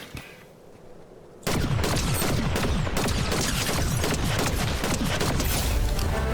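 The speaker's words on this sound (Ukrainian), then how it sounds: "Стрілянина йде з того боку" Video game gunfire in Fortnite erupts after a short quiet stretch, a dense rapid barrage of shots and crackling bursts that stays loud and continuous.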